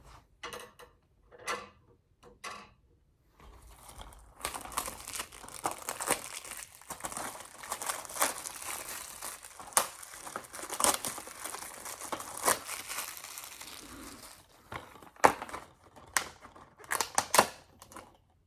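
Close plastic crinkling and crackling as scissors snip and tear open a plastic-wrapped DVD, irregular and busy, after a few sharp clicks at the start; no voices.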